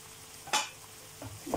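Two chopped tomatoes tip into a pan of seekh kebab karahi with one brief, sharp splash and sizzle, followed by quieter scraping and stirring sounds near the end.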